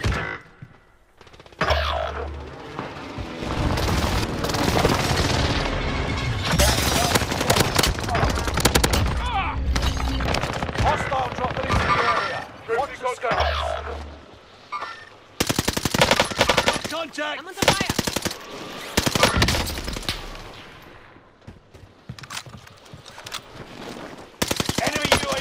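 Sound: machine gun fire from a video game

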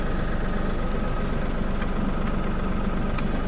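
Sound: LS MT342 tractor engine running

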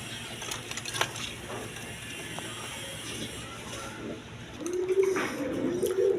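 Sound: racing pigeons cooing

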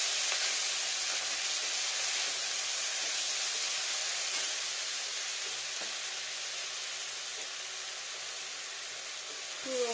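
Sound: frying ginger and spices in a pan

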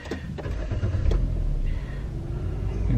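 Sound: Nissan Juke 1.6 CVT engine starting via start button

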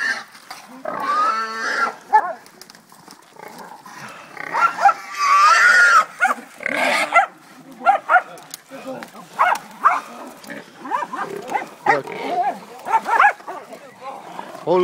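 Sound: hog squealing while caught by hunting dogs

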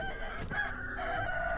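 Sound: chickens clucking in the video game Sekiro

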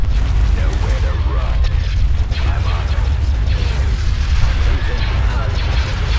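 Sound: battle station firing on shields, from video game Empire at War

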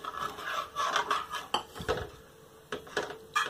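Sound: stirring potato halwa with milk in a pan

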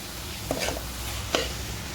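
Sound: stirring roasting grated coconut in a pan

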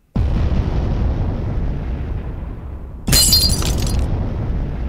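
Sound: shattering glass sound effect

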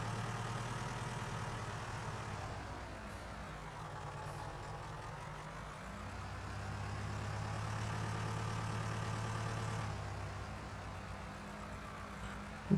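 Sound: tractor engine in Farming Simulator 19 video game

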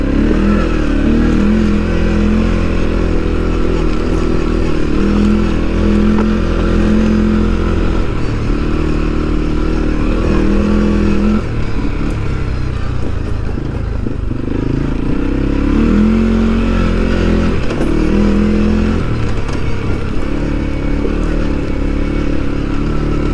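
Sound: CFMOTO CFORCE all-terrain vehicle riding engine

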